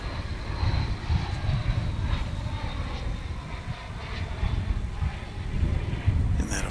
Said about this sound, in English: Here's an American Airlines flight 9780.